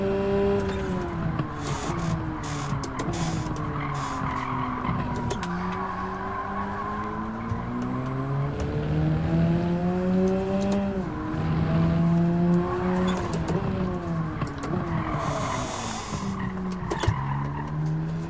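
A race car in the Gran Turismo 7 video game, during a time trial, revs steadily through gear changes, with rising and falling engine pitch and tire squeal throughout, loud and continuous.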